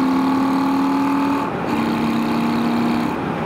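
Honda Shadow motorcycle engine droning steadily while riding, a loud sustained hum that shifts pitch briefly as it changes speed, with no talking.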